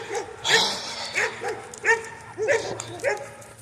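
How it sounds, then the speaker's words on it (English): A dog barks and yips in short, close bursts, several in a row, with a whimpering quality between them. "I'm sick of dogs."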